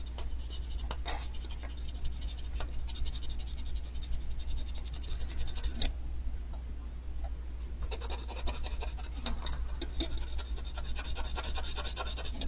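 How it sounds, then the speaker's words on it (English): An eraser rubs out pencil marks on paper during an illustration session, giving quiet, close scratchy rubbing strokes in irregular bursts, with no voices. "Gonna go over it and erase out some of the pencil marks I don't need."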